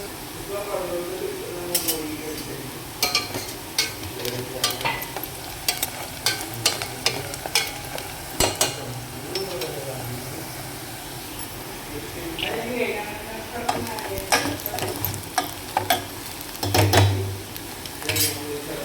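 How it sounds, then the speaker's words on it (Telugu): Onions frying and being stirred in a pan, an ongoing sizzle marked by repeated clinks and scrapes of a utensil, with a person talking over it. "మన ముక్కులు అయితే ఉల్లిపాయలు వేగిపోయినాయండి"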